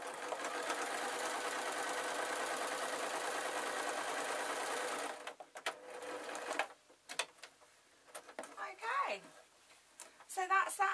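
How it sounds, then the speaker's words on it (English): A sewing machine runs in a steady rapid whir for about five seconds while stitching a ragdoll's shoulder, then stops, leaving quiet handling clicks and rustles. "I'm just sewing up my shoulder"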